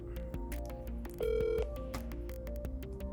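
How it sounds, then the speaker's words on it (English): A phone on speakerphone calls a number, giving a quick run of short dialing tones and a sustained steady tone, all fairly loud and alone with no talk. "I'm just going to call this number and I'll put it on speaker"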